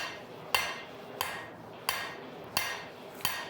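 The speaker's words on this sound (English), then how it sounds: "So first we're just hammering down." A hot railroad spike is hammered on an anvil while being forged into a knife, five evenly spaced ringing metal strikes landing about every two-thirds of a second, close and clear with no talking.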